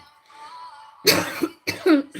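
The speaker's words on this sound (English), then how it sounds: "I don't know why I'm coughing." A few sharp coughs burst out close to the microphone after a moment of faint background hum.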